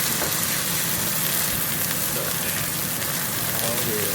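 A New York strip steak sears in a hot wok, giving a steady, bright sizzle of fat and juices that runs evenly throughout, with some faint background voice underneath.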